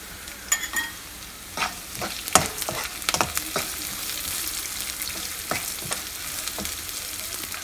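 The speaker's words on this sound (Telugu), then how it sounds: "కొంచెం ఫ్రై కానిద్దాం ఎల్లిపాయని." Garlic frying with spinach in a pan gives a close, steady sizzle. A spoon strikes and scrapes the pan in irregular clicks throughout, and no voice can be heard.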